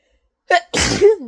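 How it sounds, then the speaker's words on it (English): A single close, loud human sneeze: a short sharp intake followed by a forceful burst and a brief voiced tail. "I had to sneeze."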